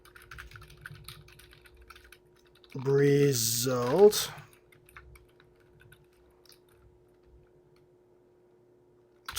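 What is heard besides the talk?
typing on a computer keyboard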